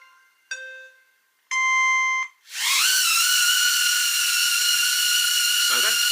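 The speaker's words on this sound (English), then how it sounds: "So that is what you get when you put your drone on." A small HoverAir or DJI Neo camera drone starts up and runs, a shrill whining propeller hiss that rises after a few short electronic beeps and holds loud and steady close by.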